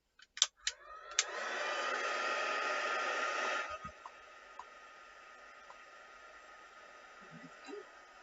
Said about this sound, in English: I'm just going to give this a quick dry with my heat gun.